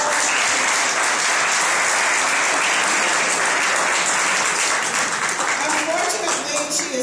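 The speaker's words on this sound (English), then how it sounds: "Let's give Denise Bonds a round of applause." A crowd applauds steadily at a DC Council Women's History Month event, dense clapping filling the space at a consistent loudness, with a few voices mixed in.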